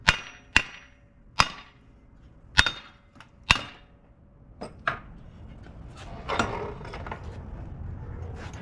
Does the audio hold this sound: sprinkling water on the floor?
no